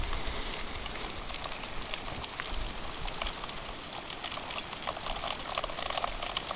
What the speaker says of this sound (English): you can just hear the melting, all the water rushing through